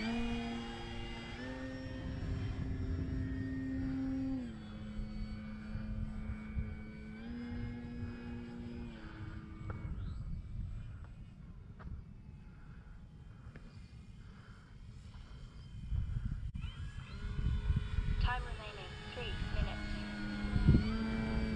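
A small engine on an FMS Pitts 1400mm V2 RC model airplane drones steadily with a slowly shifting pitch, rising and falling as it passes, while someone talks over it throughout.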